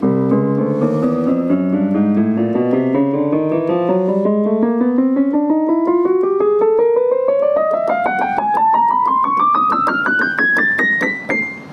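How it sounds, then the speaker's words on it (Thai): A Pastel Siamkey electronic keyboard set to its piano voice runs a rising scale note by note, each tone clear and close, climbing steadily from low to high over about eleven seconds, with no talking. "อันนี้คือเสียงเปียโนนะครับ"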